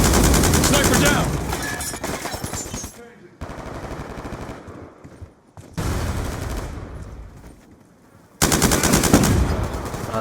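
MK48 machine gun firing in Black Ops 2, loud sustained bursts of automatic fire separated by short breaks, with game sounds around them.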